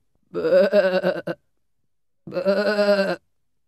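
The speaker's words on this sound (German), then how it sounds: "Ein Schaf." Two loud, close sheep bleats, each about a second long with a wavering, harmonic tone, separated by a short silence, in a rural farm setting with no talking.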